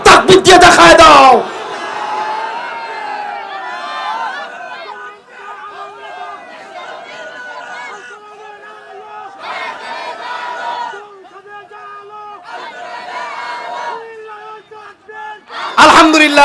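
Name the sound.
crowd shouting takbir (Allahu Akbar) in response to preacher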